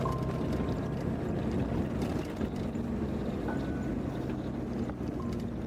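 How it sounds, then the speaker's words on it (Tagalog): An old jeep's engine idles, giving a continuous low, rumbling hum that stays steady and even throughout with no voices. "Umaandar na ang makina."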